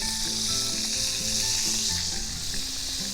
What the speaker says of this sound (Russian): шкварчит, звук дает